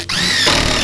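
A power drill drives screws into a wooden gym bench top, a short loud whirring burst that starts abruptly and rises in pitch as the screw bites, heard alone and close.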